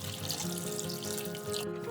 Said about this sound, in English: add a little bit of water on top